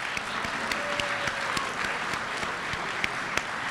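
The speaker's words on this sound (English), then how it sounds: "Give all of those wonderful round of applause." Steady applause from a crowd at a school assembly, continuous dense clapping with scattered sharper claps, moderately loud and sustained throughout.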